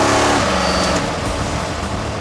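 A 2200-horsepower car engine revs hard while driving on the road, a loud, close, sustained roar that eases slightly as it goes on.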